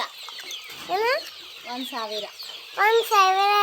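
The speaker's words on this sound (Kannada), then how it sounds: "ಕೋಳಿ ಮರ ತಂದಿದ್ದೇವ್ರಿ" Village country chickens on a farm cluck and squawk close by in several short bursts with gaps between them, ending in a louder, drawn-out call.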